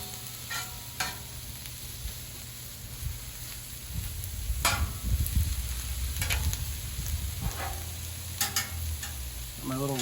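Mushrooms and vegetables sizzle and crackle on a 36-inch Blackstone griddle while being cooking for a Philly cheesesteak, with a steady frying hiss and occasional scraping and stirring strikes, without any talk.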